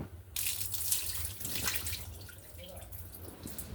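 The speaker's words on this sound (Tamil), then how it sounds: "ரெண்டு தடவை நல்லா மூணு தடவை கழுவிட்டு தண்ணியை வடிச்சிட்டு அப்படியே ஊற வச்சிடணுங்க" Rice being washed and drained in water for pongal, a continuous splashing, running-water sound close by with some dripping, no talk.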